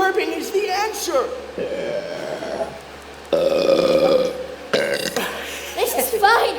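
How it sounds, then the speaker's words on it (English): A cartoon character lets out a long run of loud, drawn-out burps, several in succession with brief pauses between them, with sung and spoken voice snippets at the start and end. "Oh, how I love to burp."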